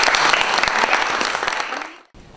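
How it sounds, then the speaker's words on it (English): An audience at a university event bursts into loud, dense applause that fades slightly before cutting off abruptly near the end. "Give them a round of applause."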